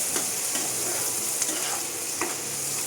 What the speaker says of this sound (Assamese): অকণমান ব্ৰাউন হোৱালৈকে ভাজিম পিঁয়াজখিনি